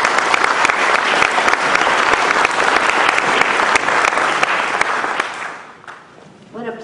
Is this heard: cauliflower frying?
no